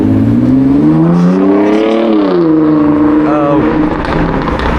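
Car with a loud aftermarket exhaust revving hard as it drives past at the bottom of Chippinghouse Road on Abbeydale Road, Sheffield, a rising and falling engine note that fills the whole moment, close and loud.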